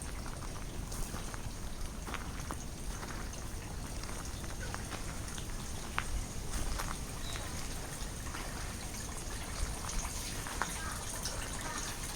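Water trickles and splashes from a traditional fountain at a shrine in Japan, a faint, steady spattering with small drips throughout, heard from close by with no talking.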